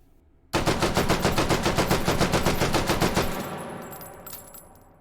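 A Madsen LAR rifle fires 7.62x51 NATO fully automatic in the virtual reality game H3VR, a single sustained burst of roughly twenty rapid, evenly spaced loud shots, followed by a fading ringing tail.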